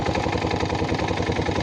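An Italika DM 250 motorcycle idles close by, a steady rapid thumping engine note with a constant rattling buzz on top and no speech.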